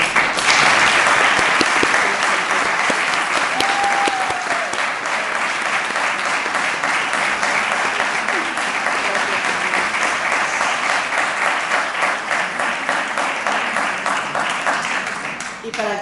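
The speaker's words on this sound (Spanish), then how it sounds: "Este aplauso como reconocimiento y nuestra oración." A conference audience gives long, sustained applause, loud dense clapping that stays steady for the full stretch and eases slightly at the end.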